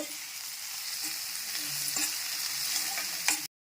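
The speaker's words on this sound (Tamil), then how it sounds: "வெங்காயம் வந்து நல்லா வதங்கட்டும்" Sliced onions sautéing in hot oil for egg curry crackle with a steady close sizzle, punctuated by brief stirring scrapes before an abrupt stop.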